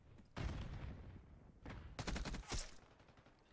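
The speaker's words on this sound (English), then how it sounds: "Initial gunfight's good for Cannon here as they hold." Bursts of gunfire ring out during a competitive video game match at a championship event, with two or three rapid volleys of shots separated by brief pauses.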